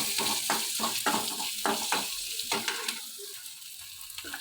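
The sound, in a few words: sautéing onions in a pan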